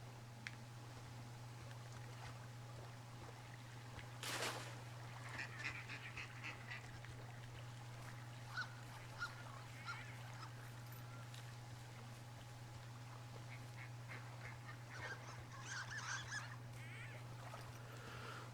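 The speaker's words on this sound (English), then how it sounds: "I hear ducks," Ducks quack in the outdoor wilderness of the video game Firewatch: one loud burst of calls, then scattered softer quacks, and another cluster near the end. A steady low hum sits beneath them the whole time.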